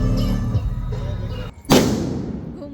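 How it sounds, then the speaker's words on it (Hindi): A firecracker bursting during Chhath festival celebrations, one sharp loud bang after a background of crowd noise, followed by a fading echoing rumble. "पटाखे जला रहे हैं।"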